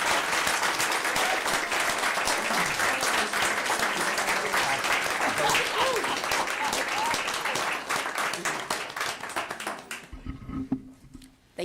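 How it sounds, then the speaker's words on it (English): Sustained applause from an audience at a state board of education meeting honoring school counselors, dense and steady clapping for about ten seconds before thinning out and fading. "Please give them a hand of applause at this time."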